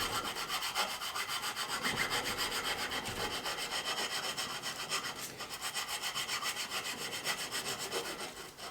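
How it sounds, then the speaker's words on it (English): A file wrapped in emery tape rubs rust from a Kawasaki KZ 650C motorcycle brake part, giving a steady, close scraping that repeats in quick strokes throughout with no pauses. "So just put a handle on your file, and then we'll just file that gently out and get the rust out of it."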